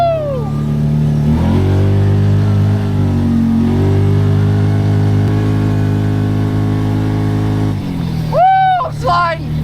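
A Teryx side-by-side skids in snow during a blizzard, its engine revving up and holding a loud, sustained drone before easing off, followed by brief whoops and shouts from riders.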